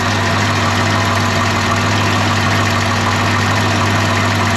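A 1974 Daimler Sovereign Series 2 engine idles hot, a loud, steady, close-up drone with a constant low hum and no talking.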